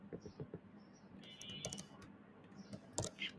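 Computer keyboard typing while code is entered for a C programming lesson: scattered soft key clicks in short bursts with small pauses, fairly faint, with no talking.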